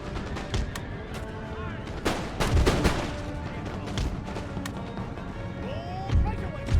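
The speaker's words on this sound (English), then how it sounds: "I love fire by rank so much, it's just such a cool thing to watch." Musket lines fire in volleys by rank in the Empire: Total War video game, with scattered booming shots and crackling bursts rolling across a busy battle din, mid-distance, while someone talks throughout.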